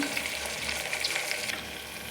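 Onion fries in a pan as tomato and salt go in, a steady close sizzle with light crackle and stirring, no talk.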